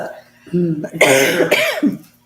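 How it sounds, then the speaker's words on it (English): Harsh, bursting coughs break out mid-stream, close and loud, mixed with throaty voiced sounds, then trail off. "It's just sometimes when I start to talk, it triggers it and I have to cough."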